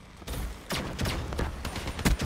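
Rapid bursts of gunfire from the video game Black Ops 3, several sharp broadband shots in quick succession over a steady game soundtrack, fairly loud and close.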